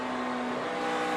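NASCAR Nationwide race car heading into turn 1 at Charlotte, a steady loud engine drone with a strong held tone throughout, no voices.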